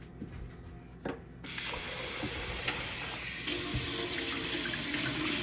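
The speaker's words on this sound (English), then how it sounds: "I'm gonna drain off this water first." Water from a pot of boiled oxtail pours and splashes steadily into a sink, starting after a brief clatter and growing louder and fuller toward the end.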